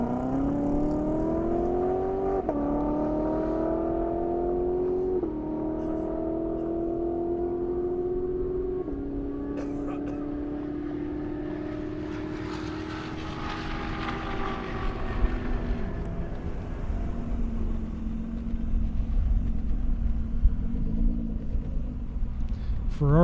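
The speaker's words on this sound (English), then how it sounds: "Ferrari hot lapping it." A Ferrari F Spider hot lapping an airstrip at a roll race event, its engine note sweeping up through the gears and then dropping, fairly distant, mixed with steady wind noise.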